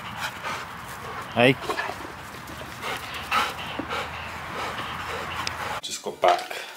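A 15-month-old search dog puppy pants and gives a few short whimpers and yips close by, while people talk over it in a busy home setting.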